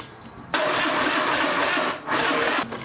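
A Twin Cam FXR motorcycle engine fires up after a quiet moment and runs loud and close. It sags briefly, then roars again before cutting back near the end.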